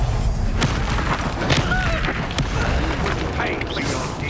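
Spell blasts in Hogwarts Legacy combat: booming impacts and crashes hit in a rapid, busy run over a dense game soundscape, with voices speaking during the fight.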